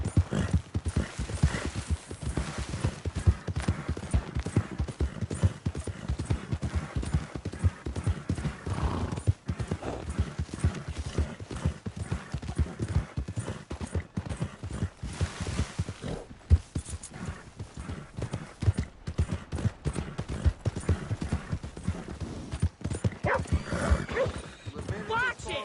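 Horse galloping in Red Dead Redemption 2, with steady rapid hoofbeats throughout, occasional whinnies and bits of game voices over the continuous running.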